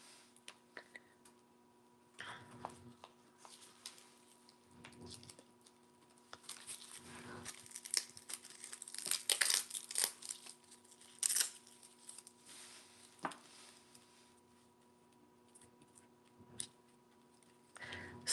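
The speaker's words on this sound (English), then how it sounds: "We just keep tearing pieces apart." Craft material being torn into pieces during a live art demo, heard as scattered soft ripping and crinkling bursts, close and fairly quiet, with occasional sharper crackles and a low steady hum underneath.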